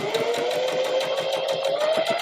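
Sewing machine stitching fabric in a steady fast run, its needle thumping in an even close rhythm under a constant motor whine, with no talk.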